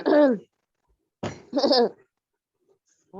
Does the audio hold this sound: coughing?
yes